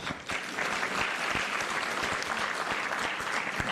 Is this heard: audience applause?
yes